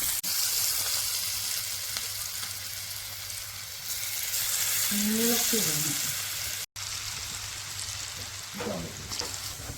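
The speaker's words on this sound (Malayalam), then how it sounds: "നമ്മുടെ ചേന ഓരോന്നെടുത്ത് പെറുക്കി എണ്ണയിലോട്ടിടാം" Pieces of elephant foot yam frying in hot oil in a home kitchen, giving a steady, close sizzle with crackling that rises as more pieces go in, and a brief tonal clink partway through.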